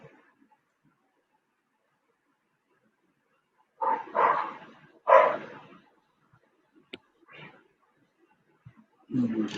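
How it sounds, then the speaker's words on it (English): A dog barks in a few short bursts at a distance, with quiet gaps between them and faint background noise. "Sounds like our dog, yes."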